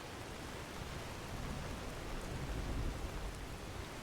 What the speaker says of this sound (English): Do not like this rain because I feel like it's really muffling any other sounds that might be happening right now.